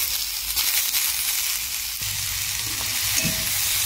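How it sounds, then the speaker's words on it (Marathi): Onion, tomato and garlic roast in a pan with a continuous bright sizzle, joined midway by scraping and stirring sounds close by, with no voices. "टोमॅटो, कांदा आणि लसूण हे पण आपण भाजून घेऊया"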